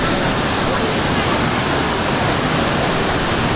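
Ouzoud Waterfalls in Morocco, a steady, loud, broadband roar of falling water that stays constant throughout, with no voices heard.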